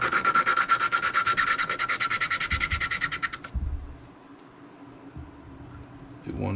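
A valve is lapped by hand onto a Honda XR50 cylinder head during an engine rebuild, giving fast rhythmic back-and-forth gritty rasping strokes that run loud and close for about three and a half seconds, then stop and leave faint handling noises.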